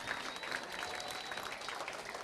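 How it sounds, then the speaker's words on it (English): Faint, distant applause rolls steadily through a hall at a county sports awards evening in Lancashire, a continuous patter of many hands without any speech. "Give yourselves a massive round of applause."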